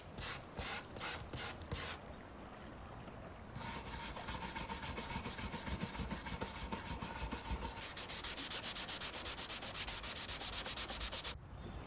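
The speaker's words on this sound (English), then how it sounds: "I'll use a few sanding pads, sanding gently by hand so I don't pass through the veneer" Gentle hand sanding of wood veneer on an antique dresser with sanding pads, a steady scratchy rubbing that runs almost continuously at close range, with a few short rhythmic strokes at the start.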